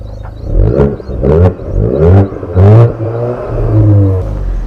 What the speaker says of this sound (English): listen to what the Golf GTI sounds like